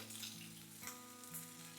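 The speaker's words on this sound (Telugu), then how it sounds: "పల్లీలు కూడా దూరగా వేగనివ్వాలి" Peanuts and green chillies frying in oil in a pan give a steady, close sizzle with a low electrical hum beneath and no talking.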